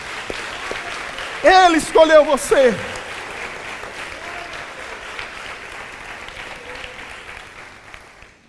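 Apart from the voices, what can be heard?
congregation applauding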